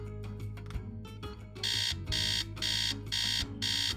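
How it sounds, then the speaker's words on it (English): Alarm sounding in a Nancy Drew video game: four loud, evenly spaced electronic bursts repeat over steady background game music, with no one talking. "Alarm."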